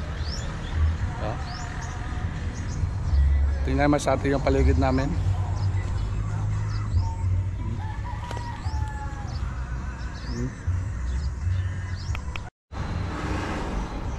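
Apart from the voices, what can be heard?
birds calling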